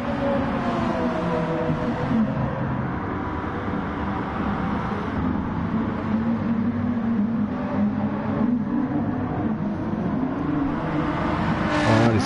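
Racing cars, led by a BMW, lapping the Brands Hatch GP circuit in a Super 2 sprint race: continuous loud engine roar and revving as several cars drive past together, steady throughout with no voices.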